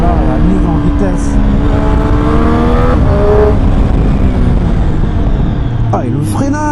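A 2021 Triumph Street Triple 765 RS roadster revs hard and accelerates on a small road, its engine pitch climbing through gear changes, loud and continuous, with a rider's voice over it.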